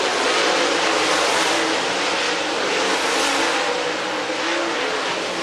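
Dirt race cars roar around Talladega Short Track during a hot lap session, a loud, continuous, dense engine din that swells slightly as the cars run close by, with no voices over it.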